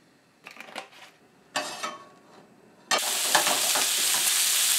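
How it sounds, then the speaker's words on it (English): Meat for bigos browning in a hot pan: a few scattered scrapes and stirs, then a loud, steady broadband sizzle bursts in near the three-second mark and continues close and strong to the end. "I'm gonna fry all my meat."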